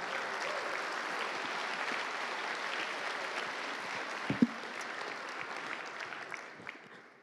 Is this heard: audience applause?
yes